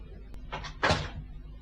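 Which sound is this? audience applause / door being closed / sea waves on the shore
door being closed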